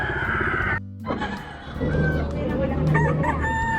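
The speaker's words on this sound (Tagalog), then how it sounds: "Ayan ang mga dre, mga manok, oh." Roosters crow loudly nearby at a pet market in Baliwag, one long call overlapping another, amid a busy background of clucking birds and general outdoor noise.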